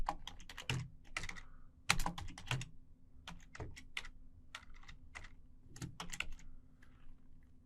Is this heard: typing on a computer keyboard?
yes